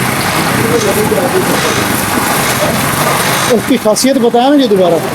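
A motorcycle engine running on a hydrogen-petrol mix idles with a low, steady rumble while someone talks over it, and his voice comes to the fore near the end.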